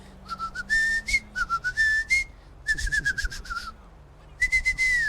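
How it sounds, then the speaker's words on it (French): A person whistles with an open mouth, close and clear, in short bursts of sliding high notes with brief gaps between phrases. "Moi je sais siffler avec la bouche ouverte, je sais faire ça."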